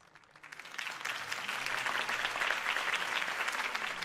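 Crowd applause for a campaign speech in a Batman video game: dense clapping swells in after a quiet start and holds at a steady, loud level.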